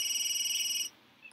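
A phone in The Sims 3 rings with a bright electronic trill, a rapidly pulsing tone that runs for under a second and then cuts off, followed by a faint blip, with no talk.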